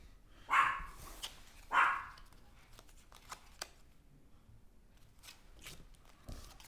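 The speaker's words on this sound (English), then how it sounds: "That's some barking dogs." Recorded dog barking sound effect from a zombie board game, two short barks early on, faint and somewhat distant, followed by scattered light clicks and handling noises.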